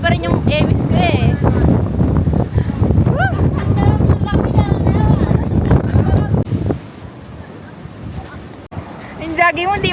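Strong wind blows along the seaside in Busan, roaring and buffeting the microphone while waves wash in the background. A person talks over the gusts, which ease briefly near the end before rising again.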